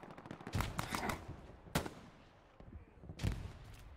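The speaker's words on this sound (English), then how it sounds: "It is really fucking hard to tell the direction of that fire." Bursts of gunfire in the World War II shooter game Hell Let Loose: three sharp loud volleys with rattling automatic fire, spaced across the moment, some at mid distance with echoing tails.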